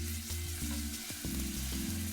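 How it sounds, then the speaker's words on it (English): Sous vide pork loin sears in a hot pan with a loud, steady sizzle and crackle, punctuated by a few brief clanks of the pan, with no talking. "And that's the sizzle you want to hear."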